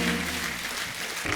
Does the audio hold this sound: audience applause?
yes